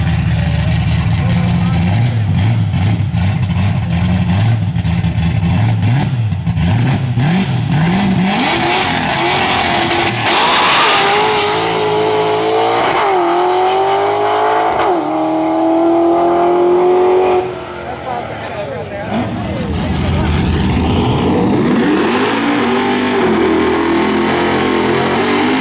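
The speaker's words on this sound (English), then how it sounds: "Jason Miller in his nasty stick shift 93 Cobra takes the bite rub." A manual-transmission 1993 Ford Mustang Cobra at a drag race, its engine revving hard and climbing through gears at close range, loud and continuous with crowd and announcer noise beneath, then easing off before building again.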